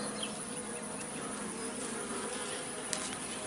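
Honey bees in a small hive give off a close, steady buzzing hum, continuous and moderately faint, with a few small clicks.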